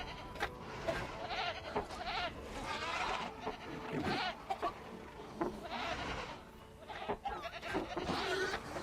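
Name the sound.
goat bleating in Jurassic World Evolution video game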